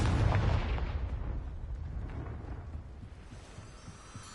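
A Confringo spell detonates in a video game, a loud booming blast with a heavy low rumble that decays slowly over several seconds, with no talking.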